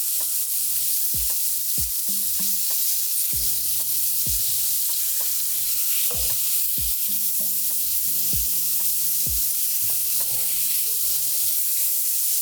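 Mushrooms sautéing in a pan for a creamy pasta sauce, a constant hiss of frying broken by repeated scrapes and knocks of a utensil stirring, with no voices.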